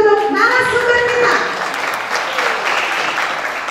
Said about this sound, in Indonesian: Tepuk tangan sekali lagi untuk narasumber kita.